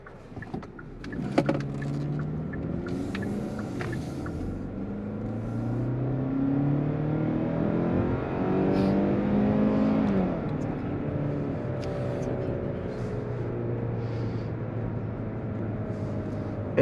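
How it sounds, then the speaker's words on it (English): A 2023 Kia Sportage X-Line AWD accelerates, heard from inside the cabin. The engine drone climbs steadily in pitch and grows louder, then levels off into a sustained hum with road noise beneath it. "Engine definitely gets loud, but not in the way you would want to"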